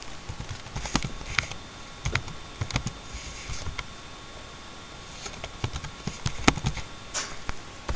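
Someone types on a computer keyboard at close range, with irregular bursts of sharp key taps and short pauses between words. The taps are moderately loud and there is no talk over them.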